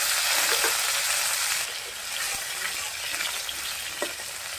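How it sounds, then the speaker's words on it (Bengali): Cumin and nigella seeds with tomato frying in hot oil for a spinach and red lentil dal, a loud, dense, steady sizzle that eases slightly partway through, close by with no talking. "জিরা আর কালো জিরা একসাথে ফোড়ন দিয়ে দিলাম। টমেটোটা দিয়ে দিচ্ছি।"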